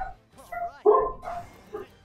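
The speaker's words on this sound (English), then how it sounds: "And I do apologize for the dogs barking," Several dogs bark and yip in short, loud bursts with uneven gaps, fairly close by, with no talk over them.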